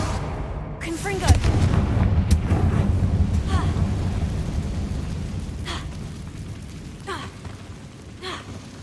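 A fiery blasting spell bursts in a catacomb in Hogwarts Legacy, a heavy rumbling boom that rolls on for several seconds, with gasping, sighing voices and sharp crackles layered over it.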